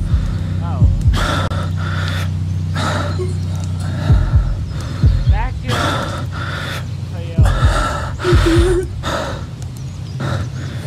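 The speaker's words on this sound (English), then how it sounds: "I hear my character breathing real heavily." Heavy, repeated gasping breaths of a character in the horror game Folklore Hunter, close and loud, in bursts, with people talking over them throughout.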